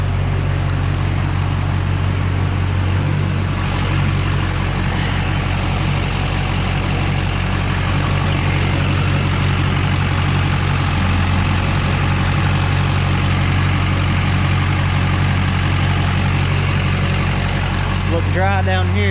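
An LB7 Duramax diesel pickup engine idles steadily and loudly up close, a constant low rumble that holds without change throughout.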